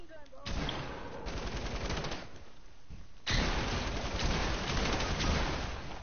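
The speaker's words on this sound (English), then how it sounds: "He has a whole, like, machine gun, bro." Rapid bursts of automatic machine gun fire from a video game, dense rattling volleys that pause briefly then return louder and sustained.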